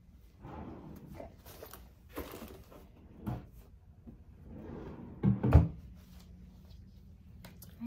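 Drawers in a medical office slide open and shut in a search for a thermometer, several close wooden knocks and rattles, the loudest a sharp double thud near the end, in a quiet room.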